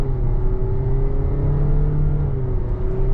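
A base-trim 2025 Toyota Corolla Cross L with a six-speed manual pulls away under gently feathered throttle, its fairly new engine giving a steady, close cabin drone and low hum that rises slightly in pitch, with no talk.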